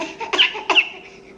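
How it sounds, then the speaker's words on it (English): Two short, squeaky fake coughing bursts from a 4-month-old baby, close by, with soft breathy sounds in between. "This is what I'm talking about with the fake coughing."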